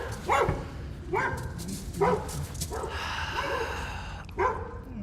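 Neighboring dogs bark outdoors, about five loud separate barks spaced roughly a second apart, carrying from a moderate distance over a steady background rumble.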